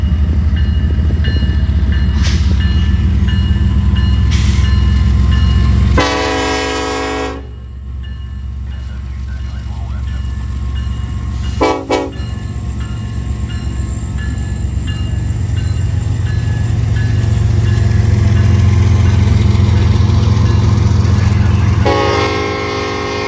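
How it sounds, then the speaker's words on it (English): Union Pacific freight train horn sounding in several blasts: two short toots, a long loud blast, another short one and a final blast, over the steady close rumble of a passing train. "What an awesome horn."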